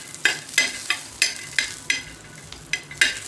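Green chillies and a handful of peanuts roast in a pan, a spatula scraping and tossing them in about ten sharp, evenly spaced strokes over a low sizzle, with no one speaking.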